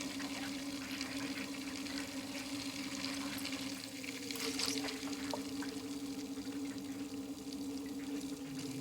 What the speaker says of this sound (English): Give it a little more time to get the air bubbles to migrate back around.